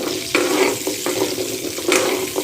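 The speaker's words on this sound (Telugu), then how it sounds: "ఇది కూడా లో ఫ్లేమ్లోనే వేపుకుంటూ ఉండాలి" Indian gooseberries fry in a pan over a low flame for a preserved gooseberry pickle, giving a steady close sizzle with a few sharp stirring scrapes over about two seconds.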